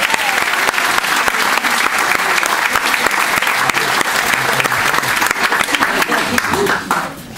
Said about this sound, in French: Elle mérite tout particulièrement nos applaudissements.